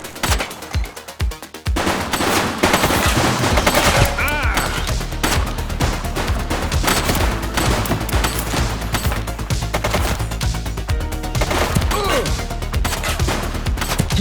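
Sustained heavy gunfire in The Precinct video game, a few sharp single shots at first and then dense, loud continuous bursts with crashes mixed in, faint voices underneath.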